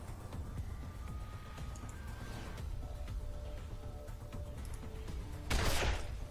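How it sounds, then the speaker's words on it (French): Gunfire in the video game Wasteland 2, a short, sharp burst of shots near the end that rises above a steady game background. "t'as tiré sur ton pote"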